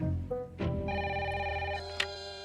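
A telephone rings in a cartoon scene, its bright electronic tone sounding as a sustained ring that stops abruptly, with a short click and brief noise before and after, fairly clear and close.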